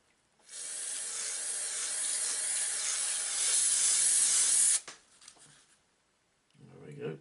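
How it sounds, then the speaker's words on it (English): Fast tack adhesive sprayed from an aerosol can onto a wargaming bocage model, one continuous loud hiss lasting about four seconds that stops abruptly, followed by faint rustling and a brief low voice. "I'm going to spray it with this fast tack so I can start putting the bushes on"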